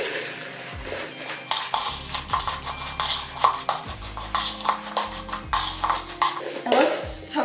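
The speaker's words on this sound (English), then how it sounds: "I'm gonna stir that really good, make sure all of the apples are coated evenly." A spoon stirring apples in a bowl for apple crisp, with repeated scraping and clinking strokes against the bowl, close and fairly loud, in an irregular rhythm.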